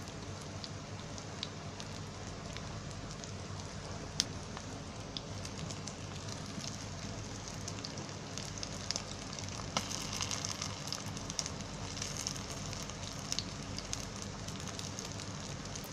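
Corn cutlets fry in a hot pan over a raised gas flame, giving a steady, dense sizzle and crackle like light rain that runs evenly throughout, close and moderately loud, with no talking.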